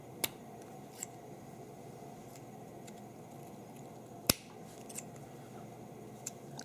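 Scissors cutting the wire stem of a decorative gift bow, a few sharp isolated snips spaced seconds apart over faint background hiss, one snip noticeably louder.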